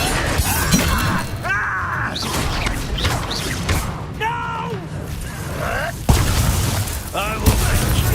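Spell-casting effect from the Hogwarts Legacy video game: bursts of magical crackle and shattering impact over a continuous layer of game sound and music, with a voice speaking over it.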